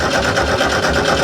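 The engine of an old, low-hours VW fire truck idles with a steady, even chug and a rapid, regular beat. The sound is close, moderately loud and unbroken by talk.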